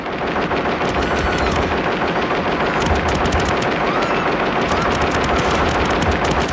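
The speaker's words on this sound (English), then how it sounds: "There's well choreographed hand-to-hand combat sequences with gun shootouts and blood squibs." Shootout from the action film John Wick: Chapter 2, dense rapid automatic gunfire in continuous loud bursts, close and relentless with no talk.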